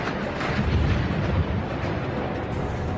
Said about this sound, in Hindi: ताबड़तोड़ फायरिंग का खौफनाक मंजर।